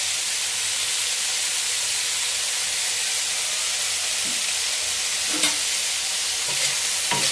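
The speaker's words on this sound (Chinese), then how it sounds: "继续翻炒" Velvet beans being stir-fried in a wok with salt and cooking wine, a steady loud sizzle and hiss throughout with occasional scraping clicks of the spatula, no talk.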